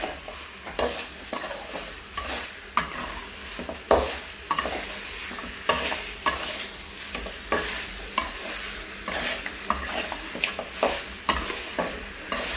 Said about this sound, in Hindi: फिर हम इसको और घुमाएंगे, सॉटे करेंगे।